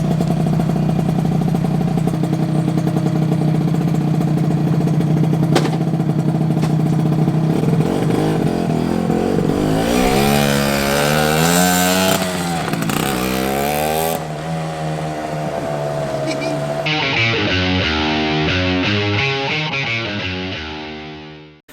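A 1986 Yamaha YSR 50 miniature motorcycle, a scaled-down Marlborough replica of the YZR, runs loud and close, its engine revving up and down repeatedly with rising and falling pitch before settling and fading out.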